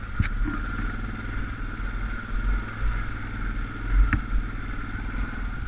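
An off-road motorcycle rolls over rocky terrain at steady throttle, its engine a low, even drone with a few sharp clatters from rocks or the chassis.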